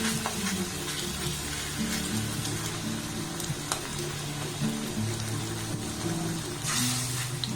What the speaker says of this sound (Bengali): তেলের মধ্যে দিয়ে দেবো এইভাবে একটু পাতলা পাতলা করেই দিয়ে দেব এইভাবে এই কড়াতে যতগুলো ধরবে আমি ঠিক ততগুলো দিয়ে দেবো